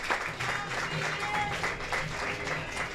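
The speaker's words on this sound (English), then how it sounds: "And they'll get a round of applause from their Bismarck fans." Bismarck fans applaud at a state AA baseball game against the West Fargo Patriots, a steady patter of clapping from a modest crowd lasting the whole moment, with faint talk underneath.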